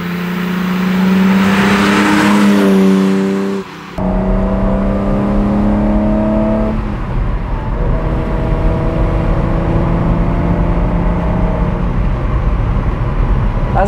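A 1980 BMW M1 sports car with about 24,000 km on it drives by, its engine note rising and falling in steady harmonic sweeps through gear changes, loud and close, with a brief dip near the start.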